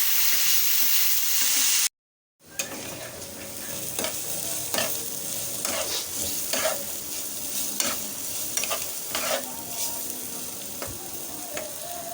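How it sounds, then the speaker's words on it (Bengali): Steady sizzling of potatoes and peas frying in a pan, with repeated scraping and stirring strokes throughout after a brief silent gap near the start. "দেওয়া হচ্ছে মটরশুঁটি আলু আর মটরশুটিটা ভালো করে ভেজে নেবে"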